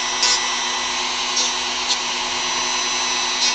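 Steady, close, high-pitched whine of a power tool beveling the edge of a carved model foot part, with a few brief louder bursts as the bit bites in.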